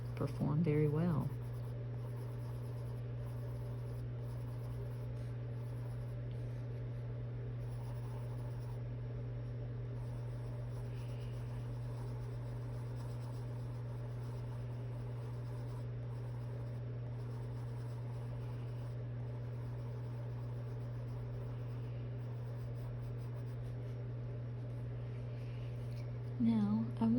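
Crayola Colors of the World colored pencils scratching across paper, a continuous soft scraping of steady strokes under a constant low electrical hum, with brief bits of speech at the start and end.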